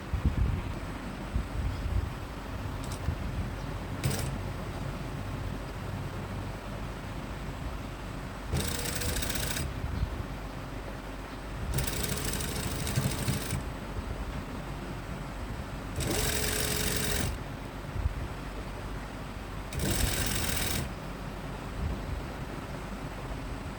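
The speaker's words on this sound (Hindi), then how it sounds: "इस सिलाई को हम अपना गाइडलाइन बनाकर इसी पर सिलाई करते जाएंगे।" Sewing machine stitching along a lace seam on a kurti, running in several separate bursts of a few seconds each over steady background hiss, close and moderately loud.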